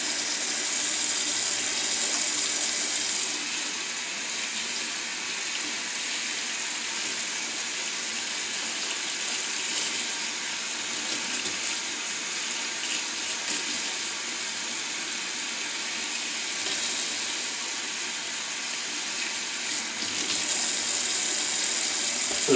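Odontoglossum orchid roots are rinsed under a running tap while being repotted, a steady, unbroken hiss of flowing water that holds level throughout.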